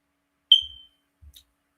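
A smoke alarm gives one sharp, high chirp followed by a faint second blip in an otherwise silent room, with a dull low thump after each.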